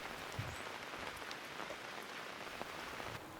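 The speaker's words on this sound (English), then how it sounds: "Rain falls." Steady rain falling outdoors, a dense even patter of drops hitting surfaces with a few slightly louder nearby drips, faint and continuous with no voices.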